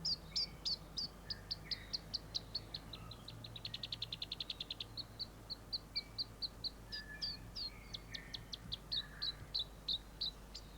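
Small birds chirp in quick, repeated high notes, with short trilling bursts, over steady forest background hiss and faint insect noise.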